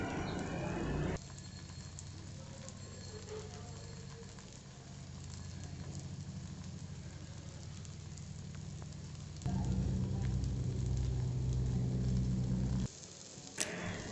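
Egg frying with tomato and onion in a pan on a stove, giving a steady crackling sizzle throughout that grows louder and denser partway through before cutting off near the end.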